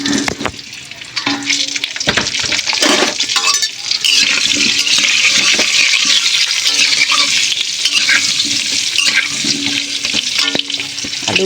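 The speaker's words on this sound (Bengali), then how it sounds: "আলুগুলো ওখানে ততক্ষণ ভাজতে থাক," Potatoes tossed with turmeric fry in hot oil in a wok, giving a loud, steady sizzle that runs throughout with scraping stirs.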